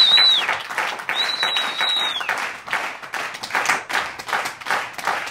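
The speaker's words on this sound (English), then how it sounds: "please give him a nice round of applause for the comedy magic of Mr. Bob Carroll" Crowd at a comedy magic show in a playhouse claps for the performer, a lively, fairly close burst of applause with a few whistles at the start.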